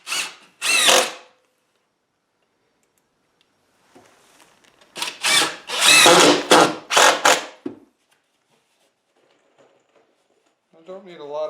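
A power drill drives screws into the nesting box of a chicken coop, giving two loud whirring bursts near the start and a longer run of several closely spaced bursts midway, with quiet gaps between.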